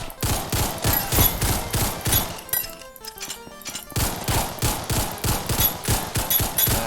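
A double-shot gun in Ragdoll Universe fires in rapid bursts of sharp, loud reports, a dense run of shots, a brief near-lull of softer clinks, then another steady volley.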